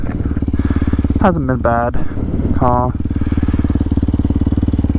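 A 2023 Kawasaki KLX 230SM single-cylinder motorcycle engine thrums steadily while riding, loud and close, with someone talking briefly over it.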